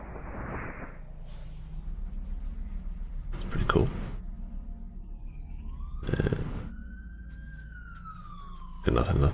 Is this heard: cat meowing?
no